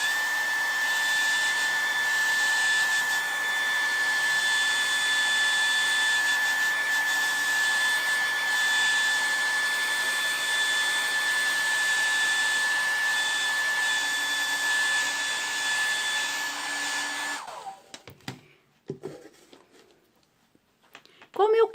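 A hair dryer blows steadily and loudly for about seventeen seconds while drying paint on MDF, then shuts off, leaving a few light handling clicks and rustles.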